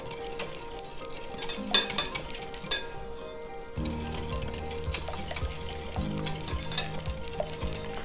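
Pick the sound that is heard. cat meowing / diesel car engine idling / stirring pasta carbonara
stirring pasta carbonara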